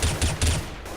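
AK rifle fire in the video game CS:GO, a rapid, loud burst of three or four close shots in quick succession.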